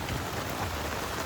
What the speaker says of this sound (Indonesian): Kena hujan guys.